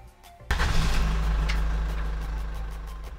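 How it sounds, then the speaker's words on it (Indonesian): A Hyundai Stargazer engine cranks to life by remote start with an abrupt burst, then settles into a steady, close, fairly loud idle, with no talk. "Nah, mesinnya langsung hidup"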